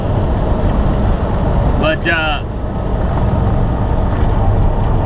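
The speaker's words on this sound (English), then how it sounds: "You can probably hear the wind just howling around the truck." Strong prairie wind roars and buffets steadily around a moving truck, a loud continuous rush throughout, with a voice briefly speaking over it midway.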